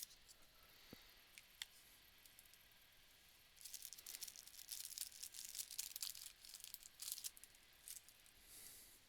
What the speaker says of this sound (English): Just need to sharpen our pencil a little bit.